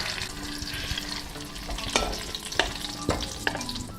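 Eggplant omelet with ground meat sizzling steadily in a frying pan, with several sharp scrapes and clatters of a utensil as it is flipped over.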